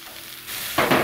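Mushrooms frying in a pan, a brief close sizzle that swells sharply toward the end, with no talking.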